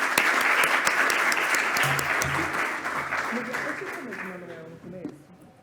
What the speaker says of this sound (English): Let's give them a round of applause and finish the session.